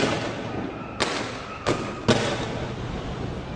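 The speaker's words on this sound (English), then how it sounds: "firing tear gas in front of them, firing rubber bullets and other explosives to try and keep the protesters at bay" Police fire tear gas and rubber bullets at protesters in Brazil: three sharp, distant bangs spaced about half a second apart ring out over a steady wash of crowd and street noise.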